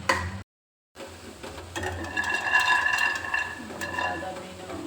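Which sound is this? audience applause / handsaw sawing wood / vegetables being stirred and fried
vegetables being stirred and fried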